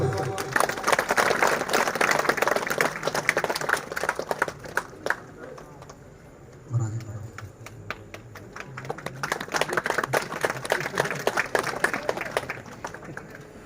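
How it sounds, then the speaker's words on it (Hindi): A crowd at an All India Bishnoi Mahasabha event gives sustained applause to welcome a speaker. Dense clapping fills the space, dips briefly midway and swells again, while an amplified voice speaks intermittently. "आप सभी तालियों से स्वागत करें।"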